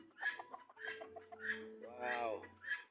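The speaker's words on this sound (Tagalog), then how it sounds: "Manok malalaking paa." Bantam chickens clucking close by in a series of short, repeated clucks and calls, with a voice speaking over them.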